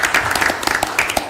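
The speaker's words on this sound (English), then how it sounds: "Y'all give them a round of applause." An audience at a board of directors meeting applauds to honor service-award recipients. The applause is steady, close and dense throughout the short stretch, with no talking over it.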